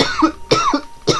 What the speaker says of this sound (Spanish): que tengo tos